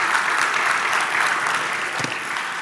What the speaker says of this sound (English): Big round of applause for Nicola.